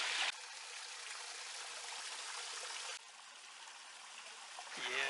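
Hot spring water trickles and flows in a continuous soft rush on a trail among palms, steady and fairly close, with a brief break partway through.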